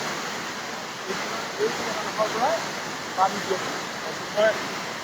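A mountain river rushing near Kedarnath temple in the Himalayas, a steady broadband roar heard from nearby in cold wind, with a few faint chirps over it.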